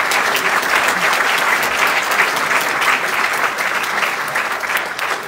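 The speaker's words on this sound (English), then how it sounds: "So please give yourselves a big round of applause." An audience at a transit authority's State of Transit Address claps loudly and continuously, a dense wash of applause from a full room lasting the whole clip.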